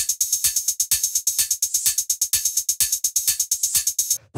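Crisp electronic hi-hats in a minimal tech house beat, a fast steady run of bright ticks with shifting accents and open-closed movement, fairly quiet and alone.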